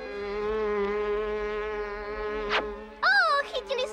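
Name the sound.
buzzing of the purple fly in a Smurfs cartoon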